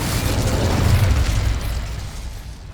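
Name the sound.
Incendio fire spell being cast in Hogwarts Legacy video game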